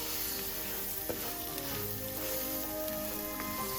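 Rice toasting in butter with onions in a pan for a pumpkin and sausage risotto, a steady close sizzle and crackle that holds throughout, with occasional soft stirring clicks and no talking.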